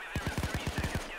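Rapid burst of about eight gunshots fired in quick succession during a Payday 2 heist, loud and close, with a brief faint voice near the start.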